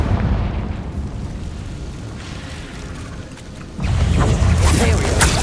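A Confringo spell blast from the Hogwarts Legacy video game erupts with a loud booming burst partway through, over continuous game ambience and combat noise.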